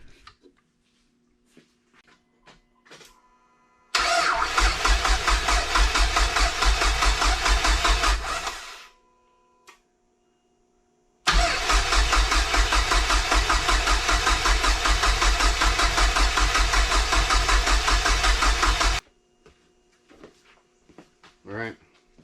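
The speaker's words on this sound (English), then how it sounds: "hopefully this battery finally charged up enough where we can get a couple cranks out of this thing." A Nissan NSRT4 car engine cranks over with the fuel relay pulled, without starting: two long bursts of loud, rhythmic starter chugging close by, separated by a pause, with small clicks between.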